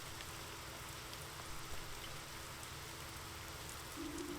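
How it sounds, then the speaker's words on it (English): Steady rain falling in the video game Fall of Porcupine, a continuous soft hiss of drops on surfaces with no voices, evenly sustained throughout. "I told you it was going to rain"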